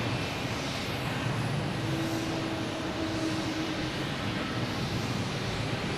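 A JetBlue airliner on approach to land at Boston Logan Airport rumbles with a steady, fairly distant jet engine roar that holds evenly throughout, with no talking.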